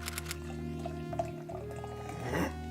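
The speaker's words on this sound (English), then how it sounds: "we're going to be pouring into my Muskoka Brewery IPA glass" IPA beer poured into a Muskoka Brewery IPA glass, a steady liquid pour with gurgling and fizzing that swells toward the end, close and fairly quiet, with no talking.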